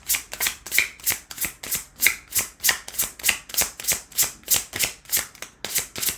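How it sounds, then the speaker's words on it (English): A deck of cards is shuffled close up, a steady run of rapid, crisp riffling bursts repeating at an even rhythm, with no voices. "one more shuffle here"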